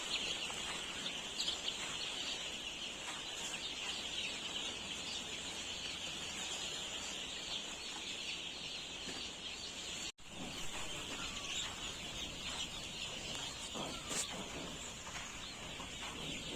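Chicks in a round brooding area of a poultry farm chirp and peep continuously at a steady, even level, with dense overlapping calls and no talk.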